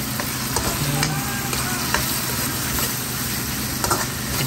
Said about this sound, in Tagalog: Ayan, lagyan natin ng kamatis. Yan, gisa natin siya.